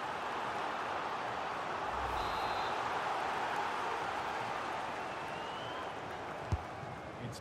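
A football crowd in a video game simulation of Raków versus Luton Town roars steadily throughout, a dense, continuous wash of cheering with a brief thump near the end.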